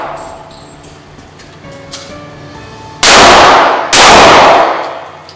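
Two loud, closely spaced shots from a Kimber Solo CDP pistol ring out at an indoor target range at 50 feet, each a sharp bang with a lingering ringing tail, after quieter background hum.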